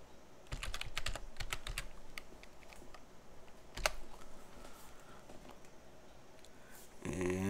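Fingers typing a Linux terminal command on a computer keyboard, close, quick bursts of clicky keystrokes with short pauses, ending in a few louder taps.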